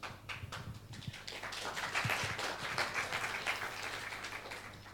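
Audience applause at the opening ceremony of a conference in Krusevo. A steady, fairly dense patter of clapping from a hall crowd is heard at moderate loudness, with a faint low hum underneath.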